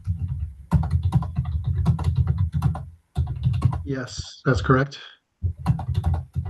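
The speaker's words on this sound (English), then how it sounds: "I can hear you typing" Keyboard typing from an unmuted participant on a remote utility rate hearing call, quick clicking keystrokes running under a person speaking and continuing between phrases.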